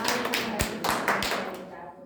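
Scattered hand claps ring out at a religious gathering, a few sharp, separate hits mixed with crowd voices, fairly close.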